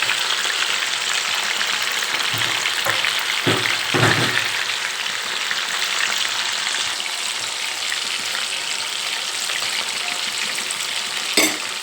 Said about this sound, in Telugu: ఫ్రై చేసుకుంటున్నాను ఫ్రెండ్స్